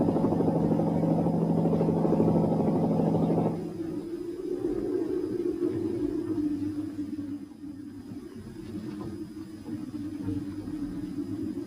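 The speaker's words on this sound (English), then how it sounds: "only helicopters could help" Helicopter flying during the 1963 big freeze over snowbound Dartmoor, a steady droning rotor and engine hum that shifts down in pitch partway through and carries on at moderate distance under faint background noise.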